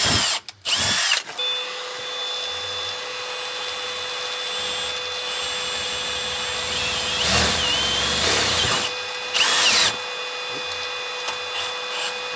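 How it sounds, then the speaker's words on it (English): A power drill whines steadily at high pitch while drilling pilot holes in a VW Crafter van, with brief bursts of louder revving and short pauses between drilling runs, close by. "I'm going to drill a couple of holes first to get us on the way."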